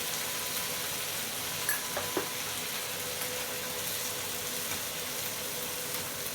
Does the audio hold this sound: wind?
no